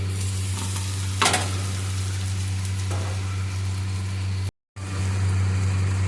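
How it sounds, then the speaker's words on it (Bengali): Vegetables and egg are stir-fried with onion in a pan for egg chow mein: a continuous loud sizzle broken by a sharp scraping clatter of the spatula, ending in a brief cut of silence before the frying resumes. "এবার আমি ভেজে রাখা সবজিগুলোকে আর ডিমটাকে এর মধ্যে দিয়ে দিচ্ছি"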